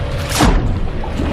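A bomb blast in an audio horror story set at sea around a ship, a single deep boom with a brief whooshing sweep, then a low rumbling tail.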